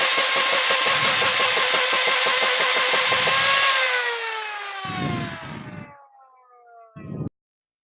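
A modified Nerf Vortex Nitron blaster fitted with a 380 motor, loud and close: a rapid mechanical rattle over a high motor whine for several seconds, then the motor pitch sliding down as it winds off, with a couple of short bursts after.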